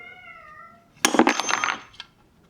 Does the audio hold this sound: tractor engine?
no